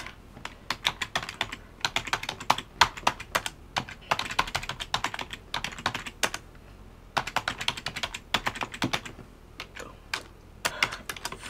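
Computer keyboard typing a database query, rapid close clicks in irregular bursts separated by short pauses, crisp and alone without talking.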